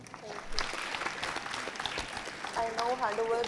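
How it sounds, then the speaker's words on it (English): Audience applause at a youth health consultation event, a steady spread of clapping heard fairly close, with speech layered over it and a voice talking more clearly toward the end. "Can we have a huge round of applause again?"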